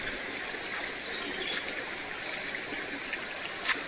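Water streams across a road beside a stepwell in a Himachal village, a steady, close rushing and trickling flow that continues evenly with no voices.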